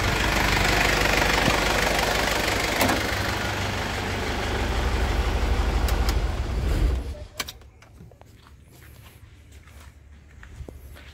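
Diesel engine of a 2000 Isuzu Panther New Hybrid idling with a steady knocking rumble up close, then cutting off partway through, leaving quiet background with faint movements.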